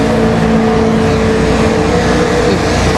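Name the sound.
NASCAR Nationwide race car engine on qualifying lap, Las Vegas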